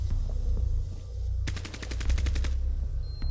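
Automatic gunfire in Rainbow Six Siege: a rapid burst of about ten shots rattles out midway, fairly close and loud, over low rumbling game ambience.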